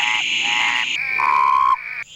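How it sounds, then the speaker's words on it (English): A single male frog or toad calls alone and close by in a short series of pulsed croaks whose pitch steps down through each part of the call. "Male frogs and toads attract their mates by singing."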